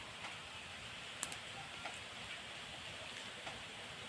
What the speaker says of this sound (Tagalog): Naulan pa talaga dito.